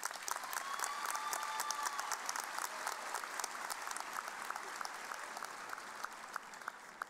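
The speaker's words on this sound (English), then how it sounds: "Please give this group a round of applause." Audience applause fills a high school graduation ceremony for the class of 2019: a steady, dense wash of clapping that holds for the whole stretch, moderately distant and without speech.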